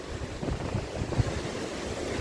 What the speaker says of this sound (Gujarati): તો મિત્રો અમે આવી ગયા છીએ દરિયા કોર.